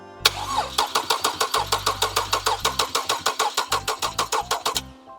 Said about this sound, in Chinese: 我们先让发动机空转一下。